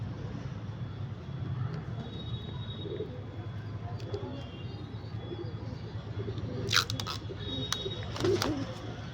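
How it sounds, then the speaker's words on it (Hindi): A female pigeon coos softly in soft low repeated calls close by, with faint background noise and a few brief sharper sounds near the end. "एकदम से ही इसने कू कू करा और भागने को कर रही है"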